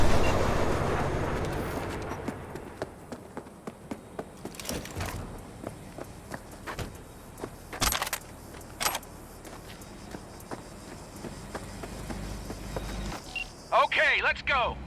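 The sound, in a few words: train leaving in Cyberpunk 2077 video game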